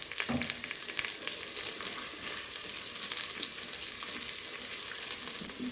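One large onion frying in a pan for mutton soup, a steady close sizzle with faint stirring scrapes, fairly quiet and without talk.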